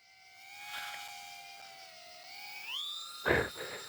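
A high, steady whistling tone from a small WalleFPV Eagle 2 FPV drone with DJI O4 Pro glides upward in pitch with a faint hiss beneath, followed by a short burst of noise near the end.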